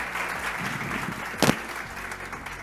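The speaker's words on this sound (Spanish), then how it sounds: "Un aplauso para ella, por favor" A conference audience at a talk on AI in higher education gives a guest a moderate round of applause, a soft, steady patter of clapping with one sharper burst near the middle.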